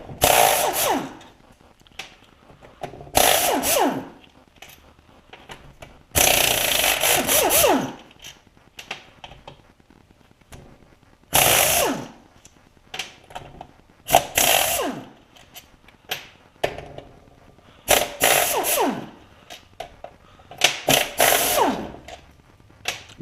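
Pneumatic impact tool loosening bolts during a Peerless 820 transmission teardown, firing in repeated loud rattling bursts of a second or two each, separated by quiet pauses and small metallic clinks.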